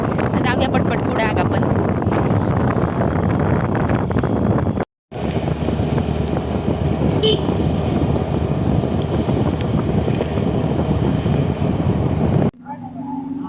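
Vehicle ride through rural Kudal, Sindhudurg, toward the village market, heard as a loud, continuous wind roar buffeting the microphone, broken by a brief dropout and a sudden cut near the end.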